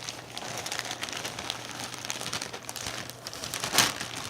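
Tape-sealed shipping package being folded and handled, giving soft, continuous crinkling and rustling of packaging close by, with a brief sharper crackle near the end.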